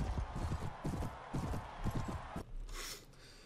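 Galloping horse hooves in the Mount&Blade Warband video game, a rapid clip-clop rhythm of repeated close impacts that stops abruptly and gives way to a brief hissing swish.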